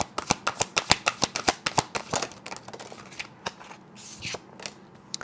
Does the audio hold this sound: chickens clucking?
no